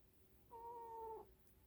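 A pet cat named Mystique gives a single short meow, faint and close, lasting under a second in a quiet room.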